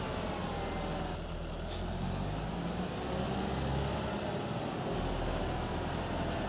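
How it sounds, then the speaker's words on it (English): A tractor engine drives in a farming video game, a loud, steady low rumble with a constant motor drone and no voices over it. "And I will take our tractor and the movers to the grassland."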